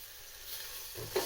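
Onions softening in butter in a hot pan give a soft, steady sizzle with faint crackle, close and quiet. A brief stirring scrape comes near the end.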